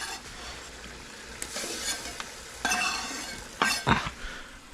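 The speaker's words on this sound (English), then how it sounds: "We're gonna throw these onions in." Onions tossed into a pan for Cuban arroz con pollo, a soft background sizzle broken by several sharp utensil scrapes and clinks against the pan, close and fairly quiet, with no talking.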